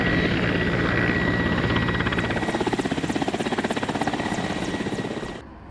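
Firefighting helicopter flown by Azerbaijani crew over wildfires in Turkey, its rotor chopping in a steady rapid pulse with a whining turbine hum, loud and close, then easing slightly at the end.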